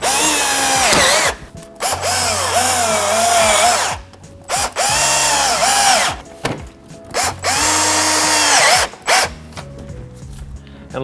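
Power drill driving four bolts on a 2014–2021 third-generation Toyota Tundra during an LED headlight install, heard as several loud, close whirring bursts of a few seconds each, separated by short pauses.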